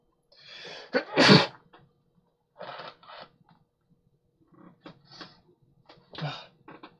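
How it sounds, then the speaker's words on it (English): A single loud sneeze bursts out near the microphone, surrounded by quiet breathy sounds and a few soft murmurs. "I need to sneeze"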